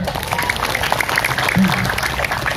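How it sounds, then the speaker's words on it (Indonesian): An outdoor crowd at a religious gathering in a field claps for the organizing committee with dense, steady applause, moderately loud with a bit of talk underneath. "tepuk tangan penghargaan untuk para panitia"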